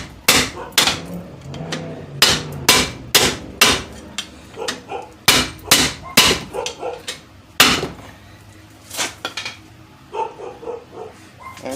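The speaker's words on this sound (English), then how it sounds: "Step up to a bigger hammer." Heavy hammer blows ring out against a 2007 Pontiac Grand Prix power steering pump, about twenty sharp metallic strikes in uneven bursts, loud and close, with a dog barking faintly in the background.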